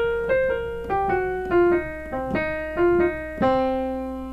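Piano plays an easy jazz-blues lick, a run of bright repeated notes in a bouncing, syncopated rhythm over sustained chords, close and clear with no talking.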